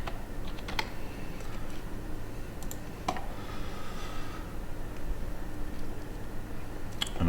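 Steady computer keyboard typing of a brake pads search into a parts quoting system, continuous close key clicks with a few sharper taps.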